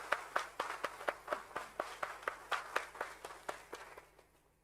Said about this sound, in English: let's have a huge round of applause for Entero Healthcare Solutions Limited